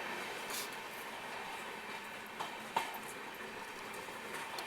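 A Patalkot Express passenger train rumbles steadily at a station, a faint, even wash of rolling noise with a couple of brief sharp clicks and no talk.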